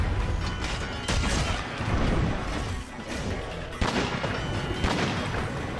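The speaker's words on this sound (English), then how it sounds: "Like its cousin, this weapon is a force to be reckoned with its ability to fire off bone-breaking shells to blast a monster." A gunlance fires shells in Monster Hunter World: heavy, punchy blasts land about a second or two apart among clanking weapon mechanisms and a loud, busy battle din.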